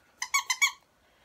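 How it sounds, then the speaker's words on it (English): A small light-up rubber squeak ball for a puppy gives four quick, bright squeaks in a row, close and clear, then silence. "It squeaks, it bounces"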